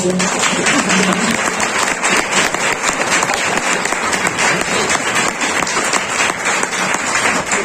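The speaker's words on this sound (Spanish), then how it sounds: "un gran aplauso" Loud, sustained applause from an audience at a talk on unwanted loneliness, many hands clapping steadily and close for the whole stretch with a murmur of voices underneath.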